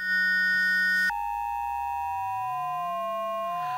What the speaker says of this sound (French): On a deux fréquences, deux ondes sinusoïdales, donc deux fréquences simples.